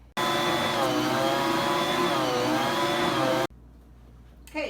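A stand mixer kneading bagel dough whirs loudly and steadily for about three seconds, then cuts off abruptly, leaving quiet room noise before a short bump at the end.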